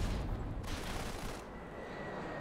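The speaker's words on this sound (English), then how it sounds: "that airstrike is going to land right on Denise" Airstrike landing in the mobile shooter Go4MC5 on iOS, a dense, roaring rumble of blasts and rattling gunfire that holds loud for a couple of seconds before easing slightly.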